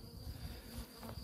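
Bees buzzing around a red beehive, a steady, faint swarm-like drone with no voices.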